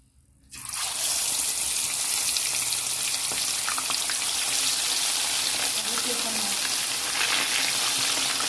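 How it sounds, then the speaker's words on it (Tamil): Sardines frying in hot oil for a fish curry, a loud steady sizzle that starts abruptly after a short quiet moment and crackles on without a break. "இந்த மத்தி மீன்லாம் அதில் போட்டு லைட்டாக பொறிச்சு எடுத்துக்க போகிறேன்"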